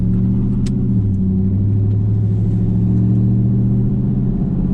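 Steady, loud low rumble of a Pontiac Trans Am WS6 Formula engine heard from inside the car while driving, with a slight drop in pitch early on and no talk.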